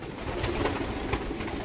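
Racing pigeons coo softly nearby, a few low, rounded calls over a constant background hum in a short stretch.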